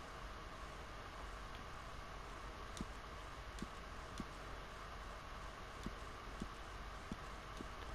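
Horse hooves in Red Dead Redemption 2, faint rhythmic clip-clop beats repeating at an even pace over a low hiss of background ambience.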